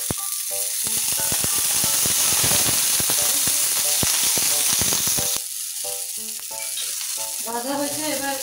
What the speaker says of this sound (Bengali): মরিচ রসুনগুলো ভেজে নিই।